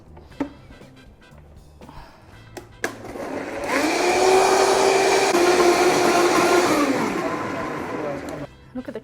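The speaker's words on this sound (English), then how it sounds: "I want to blend it, and here's a bit of noise." Blender whirring through pineapple, water and ice for a probiotic drink, starting with a burst and running loud and steady for about five seconds before cutting off, with brief talk before and after.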